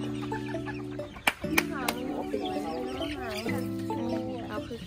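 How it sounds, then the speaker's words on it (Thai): Serama chickens, a tiny breed kept in small coops, cluck in short repeated calls at close range, with sustained tonal sounds running under them. "คือไก่ซารามอนะ"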